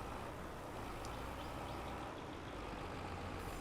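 Tractor engine in Farming Simulator 22 hauling logs toward a sawmill, a steady low rumbling drone running continuously at a fairly faint level with no talk over it.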